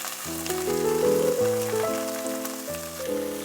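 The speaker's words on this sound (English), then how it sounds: "Saute for 1 to 2 minutes." Chickpeas and mushrooms sautéing in chili oil give a soft, steady sizzle beneath prominent background music.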